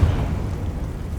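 A Confringo blasting spell explodes in Hogwarts Legacy, a single dense, low rumbling burst that starts with a loud thump and rolls on as a sustained roar, with no talk.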